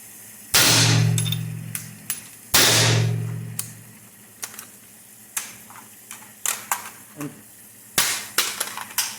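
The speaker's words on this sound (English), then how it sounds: "we're going to fire three test rounds" A KAC SR-15 MOD2 rifle test firing rounds, with two loud sharp shots that ring out and decay, followed by a series of quieter metallic clicks and clacks of handling, close by.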